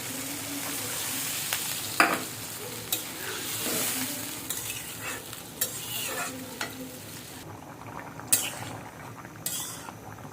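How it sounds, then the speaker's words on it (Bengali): Water goes into a pan of sizzling egg curry masala. A constant frying hiss is broken by scattered clinks and scrapes of a utensil against the pan, close and fairly quiet. "এবার আমি একটু ঝোলের জন্য পানি দিয়ে দেবো।"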